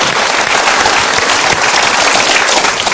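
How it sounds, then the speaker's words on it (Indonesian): A studio audience claps loudly and densely without a break, a thick wash of applause with no speech over it. "Kita berikan tepuk tangan."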